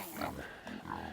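Sows grunting at feeding time on a pig farm as feed is thrown down for them. A few low, close grunts and snorts sound over about a second, with no talk.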